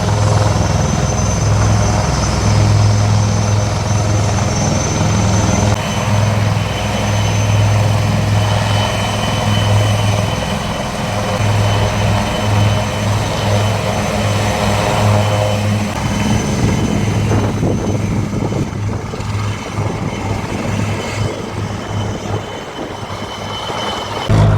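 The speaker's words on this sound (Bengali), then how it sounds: "ময়দানে দেখলাম ইন্ডিয়ান আর্মির হেলিকপ্টারের একটা মহড়া চলছে" Indian Army helicopters on an exercise over the Maidan in Kolkata, a loud continuous rotor drone overhead that thins slightly in the later seconds, with no talk.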